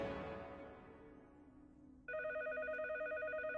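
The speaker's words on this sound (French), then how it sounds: "Le téléphone Gruyère, pas de doute," An electronic telephone in a Teenage Mutant Ninja Turtles cartoon starts ringing with a bright, pulsing tonal trill after a fading sound, clear and alone in the scene.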